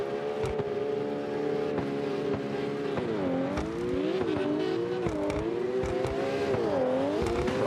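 A Lamborghini in a racing video game revs hard, its engine whine climbing and dipping through repeated throttle swells over a steady roar, close and loud.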